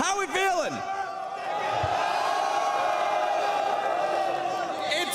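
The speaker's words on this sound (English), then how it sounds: "the passion shows from everybody here cheering on top as they took game one." A packed esports arena crowd roars and cheers at a League of Legends semifinal, a loud sustained wall of voices with whoops over it, while a host speaks.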